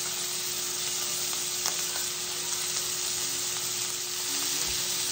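Seasoned deer steaks sizzle in a skillet, a steady, even hiss of frying with a few faint clicks and a low electrical hum beneath.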